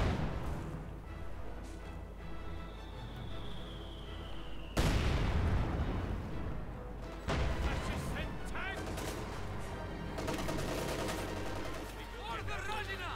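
Artillery and gunfire from the World War II strategy game Company of Heroes 2, with a Sturmgeschütz assault gun firing on Soviet Guards infantry. A sudden heavy blast is followed by dense, continuous rattling shots and booms under a steady battle rumble.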